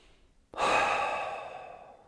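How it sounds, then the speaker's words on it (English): One deep inhale during a pranayama breathing exercise, starting abruptly as a loud, close, airy rush that holds for about a second and a half and then slowly fades. "Inhale."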